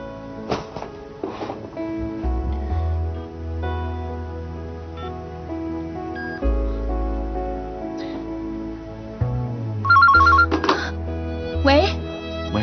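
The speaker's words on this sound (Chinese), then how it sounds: "我想打个电话" An outgoing phone call produces a short burst of repeated electronic ringing tones near the end. It is partly masked by steady background music and nearby speech.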